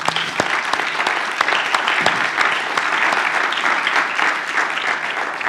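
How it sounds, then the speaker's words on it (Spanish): A church congregation applauds the Lord during a Spanish-language sermon, dense steady clapping from many hands filling the room for several seconds with a few sharper claps standing out. "Dan un aplauso al Señor"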